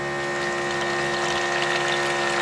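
Campervan cold water tap runs steadily with an electric pump humming underneath, a constant mid-level whir and flow with no voices.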